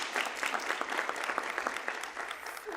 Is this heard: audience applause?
yes